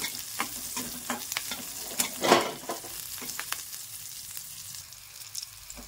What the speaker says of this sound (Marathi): तर अशा पद्धतीने आपण ही पण मिरच्या तिखट तळून घेतलेला आहे